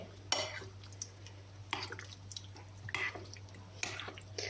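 Carrots being stirred with yogurt in a mixing bowl, giving soft wet scraping and clinks in about four separate bursts over a steady low hum, with quiet kitchen sounds between.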